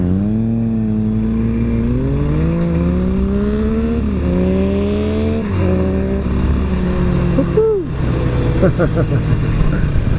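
A 2016 Harley Roadster motorcycle engine rumbles and revs up through the gears on a hot highway ride, loud and close with rising and falling pitch, and a sharp drop near the end.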